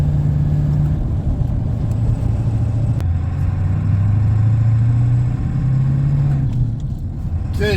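A vintage diesel pickup truck's turbocharged engine under very light throttle while hauling a trailer, a steady low rumbling drone with shifting tonal hum, close and continuous without talk.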